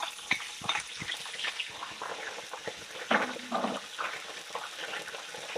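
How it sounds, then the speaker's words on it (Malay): A blended spice paste for soto nasi sizzles and spits in hot oil while being stirred, with steady crackling frying and scattered sharp pops and utensil scrapes, close and moderately loud. "kita tumis bahan semua"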